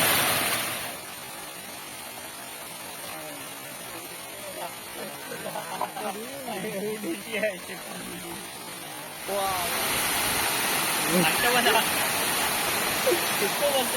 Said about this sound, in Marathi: धबधबा पण बघायला आलो